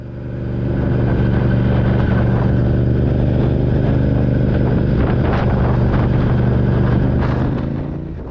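A motorcycle engine hums steadily and close for the whole stretch while riding through Bengkulu city, Indonesia, a constant drone with faint passing traffic noise, no voices.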